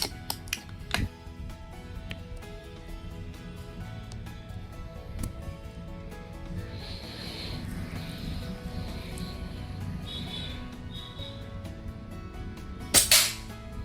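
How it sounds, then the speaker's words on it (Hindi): A Diana Outlaw air rifle is fired while being zeroed: a few faint snaps near the start, then one sharper, close shot near the end over a steady low background hum. "डाना को मैंने 15-20 दिन बाद चलाया तो 4-5 शॉट लगा ज़ीरो करने में"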